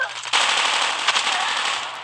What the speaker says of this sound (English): I'm gonna go shoot this bitch over here.